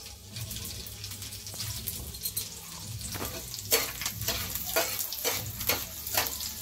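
Chopped green chilies and ginger fry in hot oil with cumin seeds in a home kitchen pan. A steady sizzle holds throughout with louder crackling spatters in the second half, and no one speaks.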